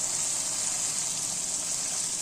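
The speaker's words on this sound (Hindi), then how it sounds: "अब इसमें हम पानी डाल देंगे" Water is poured into a pot of pulao in which ghee has separated on high heat. The hissing gush is steady and continuous, with no talk.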